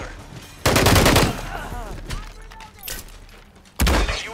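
Machine gun fire in the Call of Duty video game comes in two loud bursts separated by quieter combat noise, with brief speech in the gap.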